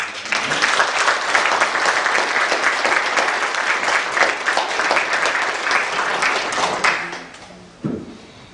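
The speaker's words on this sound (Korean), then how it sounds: "이런 마음으로 큰 박수로 한번 맞이하겠습니다" Church congregation at a Sunday worship service breaks into sustained, dense applause that holds steady for about seven seconds before fading, followed by a brief low sound near the end.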